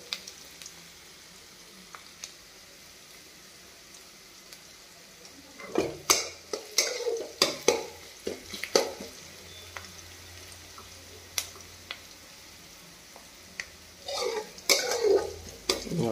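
Washed flattened rice (chuda) is stir-fried in a pan with onion. The start is quiet, then from about six seconds come intermittent bursts of scraping stirs and sizzling that pause and resume, close by, with no talk.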